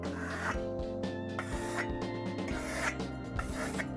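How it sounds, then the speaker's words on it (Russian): Steel trowel smoothing wet silk decorative plaster on a wall, a steady close scraping rub in repeated strokes with short pauses between passes, no voices. "Беру кельму и начинаю подглаживать"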